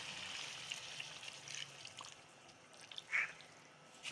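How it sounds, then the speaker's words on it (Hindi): Faint pour and trickle of water being added to sliced potatoes cooking in a pan, with soft drips and a brief louder splash near the end, quiet and close with no talking. "अब आलूओं को पकाने के लिए हम इसमें थोड़ा सा पानी ऐड करेंगे"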